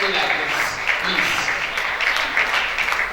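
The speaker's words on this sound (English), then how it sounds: "Please let's clap for them." Audience at a speaking event claps for the organizers, a dense, steady wash of applause from a crowd filling the room, with a voice faintly audible underneath.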